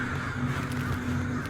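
A dense flock of crows caws loudly and continuously during a monstrous battle, with the harsh calls overlapping above a low rumbling backdrop.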